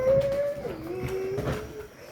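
A voice imitates a rotating lawn sprinkler with a thin, wavering tone that dips and rises, set over faint hissy background; brief and quiet, with no other sounds.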